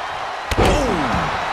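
A wrestler's face is slammed down onto the mat at a televised AEW Collision wrestling match, a single loud sharp impact over constant arena crowd noise.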